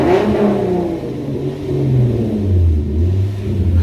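A Hyundai Genesis Coupe engine revs up in a garage, a loud, close mid-range roar rising and falling through a couple of throttle blips that swell and settle over a few seconds.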